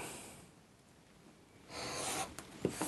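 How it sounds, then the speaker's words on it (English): A craft knife slices through a paper card template, soft scratchy scraping strokes at close range, growing louder in the second half with a couple of sharper ticks. "I'm using my craft knife, but you can use scissors if you want."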